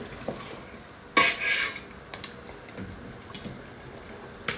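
Chicken pieces brown and fry in a pan for Tunisian red rice. A low, steady sizzle is broken by close utensil scrapes and clinks as the meat is turned, one scrape louder and longer than the rest. No one speaks.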